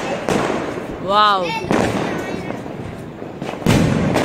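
Diwali firecrackers burst close by in a string of sharp, heavy bangs with echoing rumbles between them, while a voice exclaims over the noise.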